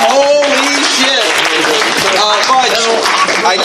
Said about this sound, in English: Give it up for Chris with the excellent timing